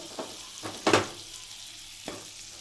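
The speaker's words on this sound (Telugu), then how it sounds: "ఇప్పుడు కడాయి హీట్ అయిన తర్వాత బటర్ వేసేయండి" Butter melts in a hot kadai with a quiet, steady sizzle, broken by a few soft clinks of utensils close by.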